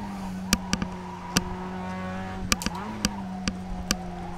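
Mazda MX-5 race car in the iRacing game at Phoenix, a steady engine drone with shifting pitch and sharp clicks or bumps recurring throughout, moderately loud and without talk.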